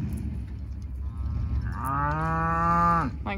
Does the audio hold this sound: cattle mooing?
yes